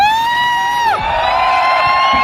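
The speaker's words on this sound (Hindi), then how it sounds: "सीटियां बज सकती हैं और चीख सकते हैं हम" A crowd at a business event responds with a long loud whistle that falls off sharply, then a mix of whoops, cheering and shouting carries on, close and loud.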